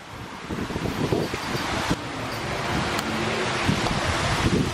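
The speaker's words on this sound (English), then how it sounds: "I don't think the wind is helping this game." Strong wind buffets the microphone outdoors on a mini golf course, a loud continuous roaring rush with gusty surges throughout and no talk.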